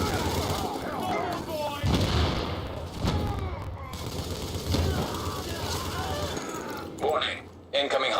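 Hostile gunfire in the video game The Division crackles in scattered bursts and thuds, mid-distance, under radio-style voices speaking throughout.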